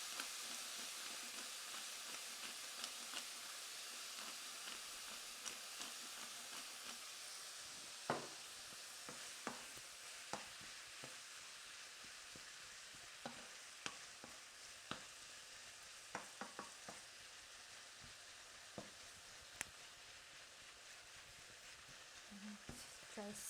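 Pork mince frying in a pan, a constant soft sizzle with occasional scrapes and taps of stirring scattered throughout, fairly quiet and close.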